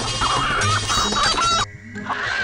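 A rooster clucks close by in a rapid string of loud, throaty notes, then breaks off briefly before another cluck starts.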